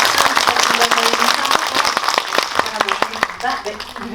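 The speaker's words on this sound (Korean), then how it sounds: "네, 모두 큰 박수 부탁드립니다." An audience at a Korean movie screening Q&A in a cinema claps steadily, a full wash of applause with distinct sharp claps, while a presenter's amplified voice carries over it.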